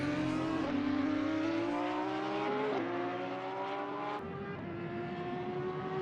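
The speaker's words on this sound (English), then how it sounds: "I can hear people leaving the pits." Several race cars in a racing video game at Spa roar steadily as they leave the pits, engines droning and shifting up through rising tones, loud and continuous with no talk.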